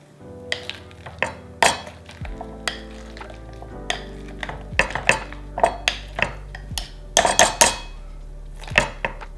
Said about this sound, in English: you're just going to mash it all up until it's nice and squished and all mixed together